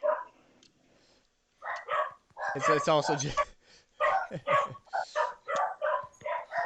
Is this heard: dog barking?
yes